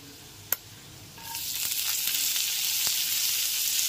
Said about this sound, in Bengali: আদা রসুন বাটাটা গ্যাসের ফ্লেমটা লোতে রেখে ভেজে নিতে হবে।